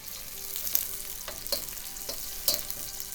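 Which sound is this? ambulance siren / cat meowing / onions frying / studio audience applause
onions frying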